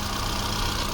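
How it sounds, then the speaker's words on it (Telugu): A 2011 Hyundai Santro Xing GL Plus running on LPG and petrol idles with a steady, even hum. "ఇంజన్ సౌండ్ ఇది సార్."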